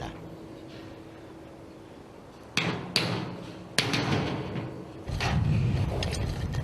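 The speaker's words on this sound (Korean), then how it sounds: "볼트가 잘 들어가지 않을 때는 망치를 사용하는 수밖에 없다." Hammer blows on steel bolts during steel-frame construction: a handful of sharp metallic strikes in irregular succession, moderately loud, over a low steady site rumble.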